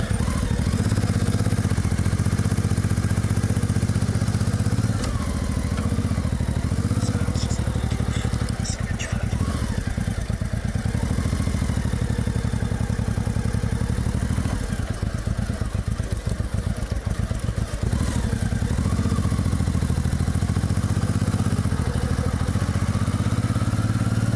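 A motorcycle rides out onto a road near Seville, its engine droning loudly and continuously with heavy wind buffeting and occasional clattering throughout.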